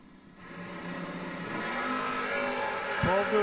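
A 1984 Porsche race car launches down a drag strip lane, its engine note climbing steadily in pitch and growing louder over several seconds, with a sharp burst of revving at the end amid crowd and track noise.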